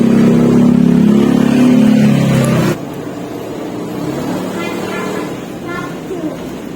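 A Yamaha Grand 97 motorcycle engine with an NMAX voltage regulator is revved during a battery voltage test. A loud, steady humming drone holds, then drops abruptly to a quieter idle, close by.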